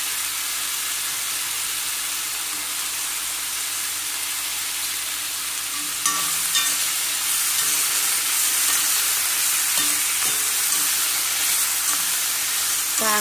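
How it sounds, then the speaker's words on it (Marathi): Sliced bitter gourd and onion sauté in hot oil, giving a steady broad sizzle with light stirring scrapes that pick up about halfway through, close and continuous with no voices. "ते चांगलं तेलात परतवून घ्यायचं।"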